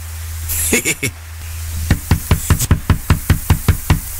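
A door is knocked on in a steady run of about a dozen firm, close raps at an even pace, preceded by a short quicker burst of knocks.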